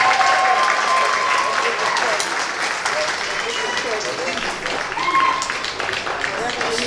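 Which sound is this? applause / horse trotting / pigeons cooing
applause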